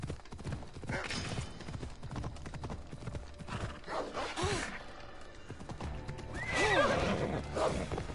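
A horse in Assassin's Creed Odyssey neighs loudly with a rising, shrill whinny, preceded by hoof clopping and snorting, all close and clear with no talking.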